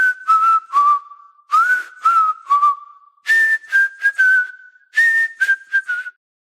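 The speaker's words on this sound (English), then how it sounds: "Want me to whistle us a little tune while we run?" A Deadlock character whistles a short melodic tune, a series of clear sustained and gliding notes in phrases with brief pauses, close and alone without other sound.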